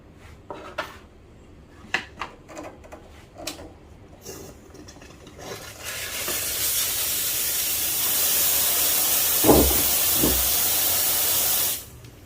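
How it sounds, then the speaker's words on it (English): Steam wand of a VBM Domobar Junior Digital heat-exchanger PID espresso machine, a four-hole tip, opening with a loud continuous hiss that holds steady for about six seconds before cutting off, preceded by light clicks and clatter. "Okay, so let's test the steam power."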